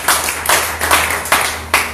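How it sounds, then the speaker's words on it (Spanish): A church congregation claps for Jesus during a fasting-day service, loud rhythmic hand claps landing in about five strong beats over a low steady hum. "Denle un aplauso al Señor Jesús."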